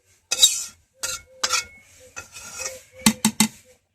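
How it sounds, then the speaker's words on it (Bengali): A spoon scrapes and clinks against a pot of khichuri being stirred, several separate metallic strikes and scrapes with short pauses, ending in a quick run of sharp clinks. "খিচুড়ি নাড়াচাড়া দিয়ে নামিয়ে"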